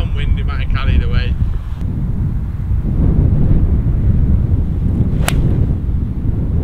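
Wind blowing across a golf course buffets the microphone with a loud, steady low rumble, a brief voice at the start and a sharp crack midway.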